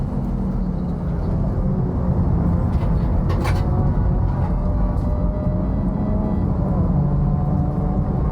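A very cheap home-built race car on its first drive around a track, its engine droning loudly and steadily with a rough, constant roar throughout.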